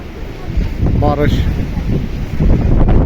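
Strong wind buffets the microphone during a sand storm under dark clouds, with sand blowing across wet ground; a steady, loud roaring rush fills the whole clip while someone talks over it.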